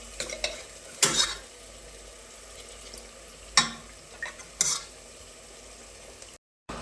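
Cooked mutton being stirred into a sizzling biryani masala in a pot, a low steady fry broken by a few sharp scraping and clanking strokes of a spoon, then a brief cut to silence, no voices.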